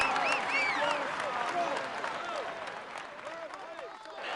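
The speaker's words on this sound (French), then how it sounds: "vous pouvez l'applaudir bien fort" Crowd applauding a cyclist at a Tour de France stage presentation, a broad wash of clapping and cheering beneath busy overlapping voices and whistles.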